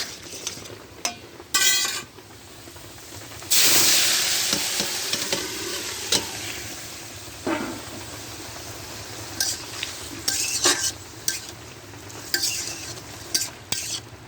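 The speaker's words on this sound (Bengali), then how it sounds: "উচ্ছে তেলে দিয়ে ভেজে নেবেন" Bitter gourd fries in oil in a pan, a steady sizzle broken by repeated bursts of spatula stirring and scraping, with occasional metal clinks against the pan.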